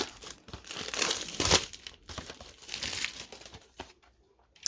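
Close crinkling and tearing of the cardboard and plastic packaging on a Sonny Angel WAAC collaboration figure box, irregular ripping bursts and rustles with pauses in between, no talking.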